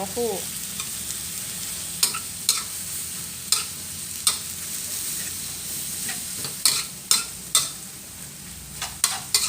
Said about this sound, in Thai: ผัดใบกะเพราให้ยุบค่ะพี่น้อง